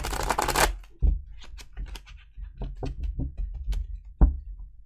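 Tarot cards being shuffled close up: a quick riffle followed by a series of soft taps and slaps as the deck is handled.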